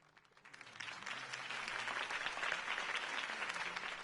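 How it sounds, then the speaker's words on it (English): Applause in a Batman video game swells from quiet to a steady, dense roar of many hands clapping, sustained throughout. "If only Mr. Wayne, my campaign's largest backer, could have heard that applause"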